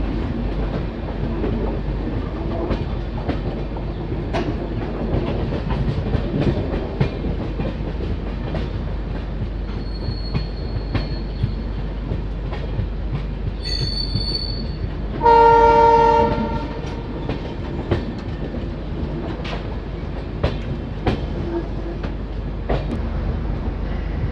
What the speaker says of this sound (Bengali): খুব সুন্দর একটা কার্ভ নিয়ে ট্রেন ধীরে ধীরে নিউ বাঙ্গাইগাঁও স্টেশনের দিকে এগোচ্ছে